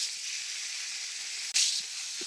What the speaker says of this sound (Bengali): মাছগুলো হলুদ মেখে নিলাম, এখন তেলের ভিতরে দিয়ে দিব।